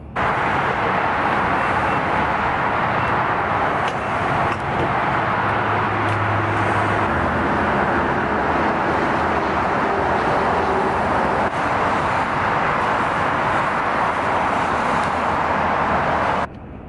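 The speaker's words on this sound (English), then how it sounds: "Trip's going pretty well. Truck's driving nice." A truck cruising on I-95 during a road trip, its steady broadband road and engine roar holding constant from start to finish with no talk.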